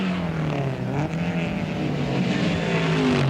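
Late-1960s/early-1970s touring cars, a Ford Falcon GTHO and a Chrysler Charger, race flat out along the long half-mile straight at Warwick Farm, engines roaring loud and close with rising, sustained drone and no talk.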